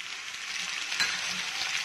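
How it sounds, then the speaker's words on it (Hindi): Peanuts and curry leaves frying in oil in a pan for poha, giving a steady close sizzle with one faint clink partway through. "हल्के से मूंगफली भुन जाए"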